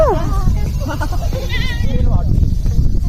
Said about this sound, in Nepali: हेर उ बाख्रा आउँदैछ